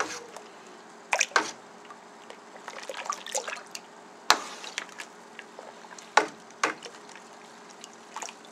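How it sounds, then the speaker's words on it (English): Yeast being stirred into liquid: soft sloshing and splashing sounds, with several sharper clinks and drips scattered irregularly over a quiet background and no speech. "And then we're going to stir it up."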